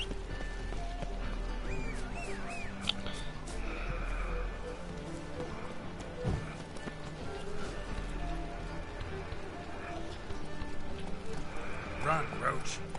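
Roach the horse galloping in The Witcher 3, rhythmic hoofbeats running steadily throughout with an occasional whinny, set against game ambience and music while a voice talks over it.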